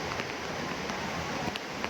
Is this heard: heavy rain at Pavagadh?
yes